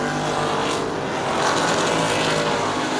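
CRA Street Stock race cars roar as the field takes the green flag out of turn four at Plymouth Speedway, a loud, continuous blend of engines swelling slightly midway with no voices.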